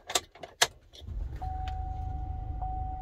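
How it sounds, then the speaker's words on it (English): Keys jangle close by, then the ignition key turns in an Explorer conversion van, followed by a steady low hum and a continuous electronic chime tone. "And now when I turn the key back on again"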